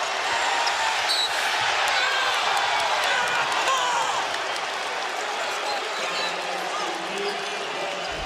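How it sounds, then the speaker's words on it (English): A college basketball crowd at a Duke versus Georgetown game roars and cheers steadily during a Duke scoring run, loud and continuous, with some clapping and shoe squeaks mixed in. "here comes the crowd"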